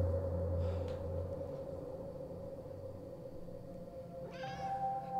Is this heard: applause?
no